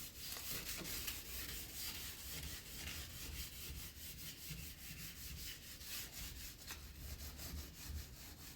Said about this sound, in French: faut bien le poncer partout qu'il soit mat